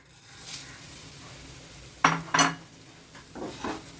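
Oats tossed in hot oil with spices, a soft low sizzle beneath two sharp metal clinks of a spoon against the pan, followed by a few quieter scraping stirs.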